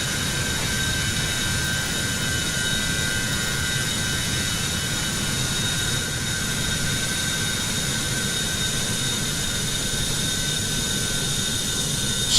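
Jet airliner engine drone from a flight simulator game, a steady broadband roar with a faint high whine, continuous and even throughout with no talk over it.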